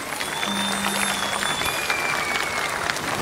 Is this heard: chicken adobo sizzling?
no